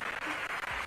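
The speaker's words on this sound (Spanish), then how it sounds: "cómo ella responde y la gente aplaude" A crowd applauds, a short burst of dense, steady clapping that fills the whole moment with no voices on top.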